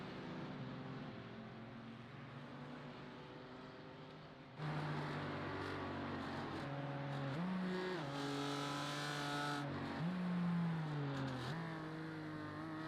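BMW race cars in a sim racing game at Snetterton: a steady engine drone that jumps louder, then revs rise and dip through gear changes, close and continuous with no talking.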